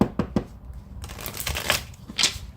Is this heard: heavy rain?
no